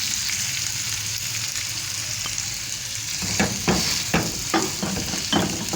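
Potatoes and onion frying in oil for aloo kachori, a steady bright sizzle that turns into a run of spaced scraping stirs partway through, close and without voices.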